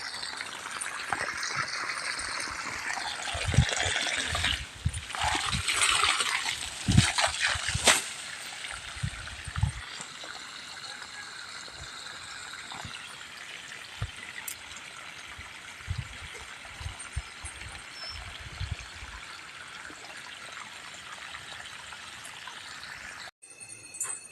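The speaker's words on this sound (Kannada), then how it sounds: "ಇಲ್ಲಿ ನಾನು ಜೋಳದ ಕಡೆಗೆ ನೀರು ಬಿಡ್ತಾ ಇದ್ದೀನಿ" Irrigation water runs into a sorghum field with a steady, soft rushing and trickling, broken by a few louder splashes and gurgles early on, then settling into a quieter continuous flow outdoors.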